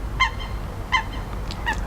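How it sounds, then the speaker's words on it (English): A goose honks three times in a steady spaced rhythm, each call loud and clear, set against quiet indoor background noise with no talking. "Excuse the bird."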